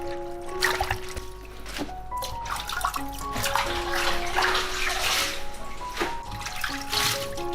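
Spring greens being rinsed under running water in a sink or basin, a steady splashing trickle with soft knocks and swishes of leaves being handled, close and continuous throughout.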